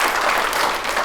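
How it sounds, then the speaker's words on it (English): Audience clapping in a room, a brief dense burst of many hands at close range, steady and loud throughout with no talk over it. "you can clap"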